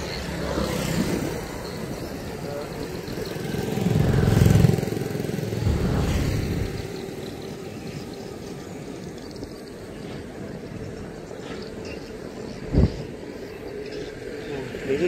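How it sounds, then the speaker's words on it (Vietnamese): Small fast motorboat passes along a canal, its engine drone swelling as it nears and fading away, heard from the bank under someone talking, with a brief bump near the end. "Và chiếc này chạy khá nhanh luôn mọi người, khá nhanh luôn, không biết chạy máy gì đây."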